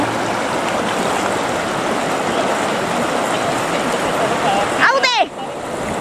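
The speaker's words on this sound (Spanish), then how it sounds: "qué fuerza que tiene el agua" Strong rushing water roars steadily and loudly up close, with a broadband wash throughout and a brief higher sweeping noise near the end, while people talk and exclaim over it.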